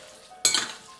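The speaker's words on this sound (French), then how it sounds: "Je mélange." Quinoa tabbouleh salad is stirred in a bowl, giving one brief, close scraping swish of a utensil through the moist grains and vegetables over a quiet background.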